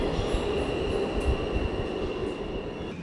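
A New York City subway train rumbles steadily throughout, with dense low-frequency rolling noise, faint wheel squeal and a constant tone, close and loud with no talking.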